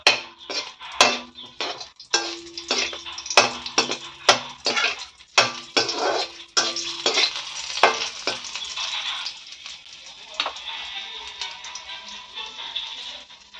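Dry red chillies hit hot oil in a pan, bringing a steady sizzle broken by sharp metallic clanks and scrapes of a spatula early on, with the frying continuing alone toward the end.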